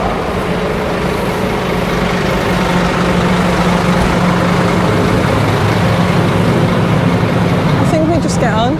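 A Flixbus airport shuttle bus to Lisbon Airport Terminal 2 idles with a loud, steady low rumble throughout, and voices can be heard talking over the engine.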